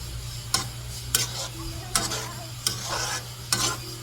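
Ground beef frying in a pan with a steady sizzle, a spatula scraping and stirring about every second in sharp, regular strokes.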